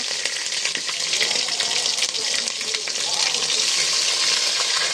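Ground ginger, garlic and dried red chili paste frying in hot oil for a beef bhuna, giving a loud, dense, continuous sizzle with faint stirring, up close and without speech.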